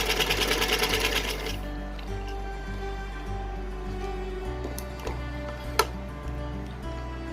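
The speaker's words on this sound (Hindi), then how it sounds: "दोनों कपड़ों को 2 साइड के एक दूसरे के ऊपर उल्टा करके हम कॉर्नर से इस तरह से सीधी सिलाई लगा रहे हैं।" A sewing machine runs a straight seam across two layers of doll night-suit fabric joined at the corner, a steady close mechanical chatter that slows and shifts pace partway through, with a sharp click near the end.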